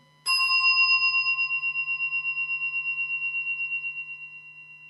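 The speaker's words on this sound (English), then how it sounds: "there's a sound of the bell coming" A single bell is struck once during a breathing meditation, a clear ringing tone with bright overtones that sustains and slowly fades with a gentle pulsing shimmer.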